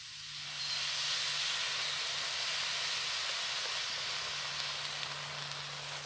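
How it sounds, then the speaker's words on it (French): Water sizzles in a hot, unoiled pan over a campfire in a forest. A steady, loud hiss of steam rises within the first second and holds without a break to the end, with no talking. "Un peu d'eau dedans. C'est en train de brûler."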